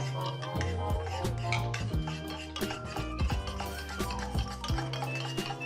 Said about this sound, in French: mettre tout de suite dans un petit bol d'eau en fait, un petit bol d'eau froide pour continuer à remuer